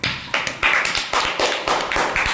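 A classroom of primary students claps in a patterned rhythm for a classmate, sharp grouped bursts of claps repeating at a steady pace, fairly close and loud with no talking.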